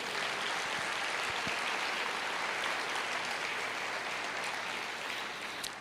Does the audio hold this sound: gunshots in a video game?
no